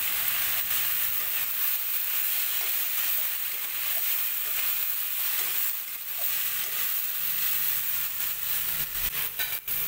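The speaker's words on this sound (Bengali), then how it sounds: "এবার ভালো করে একটু ভাজা ভাজা করে নেব" Masoor lentils with ground cumin fry in a pan, giving a loud, steady sizzle and hiss with occasional stirring scrapes, close up and without speech.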